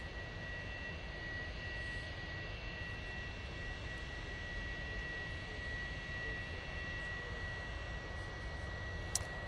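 Steady jet roar of a Pilatus PC-24 business jet at Manchester Airport, heard from a distance as a constant broadband rumble and hiss with a faint high whine, moderately quiet and unbroken.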